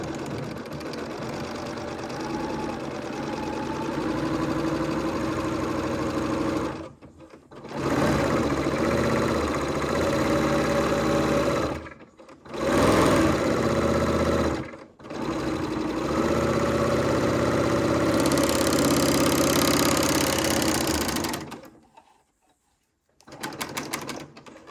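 A serger stitches a rolled hem along flowing fabric in several long, steady motor runs, loud and close, with short pauses between bursts and a final stop before a brief restart.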